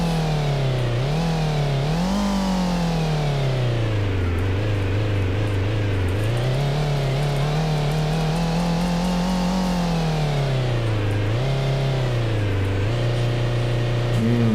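A simulated car engine in a homemade Godot video game revs continuously, its pitch sliding up and down through repeated rises and dips, steady and loud throughout with no pauses.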